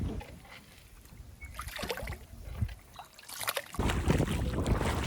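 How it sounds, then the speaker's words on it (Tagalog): Water sloshes and splashes as a fishing boat is pushed through river shallows at low tide, with gusts of wind buffeting the microphone and surges of churning water. "kailangan namin itulak ang bangka para makaahon kami"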